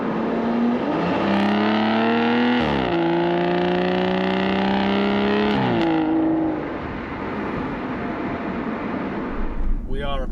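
A 2014 Aston Martin Rapide S with its 5.9-litre V12 accelerates hard in sport mode, climbing through the revs with gear changes, loud and close, then settling to a lower cruise with a voice briefly at the end.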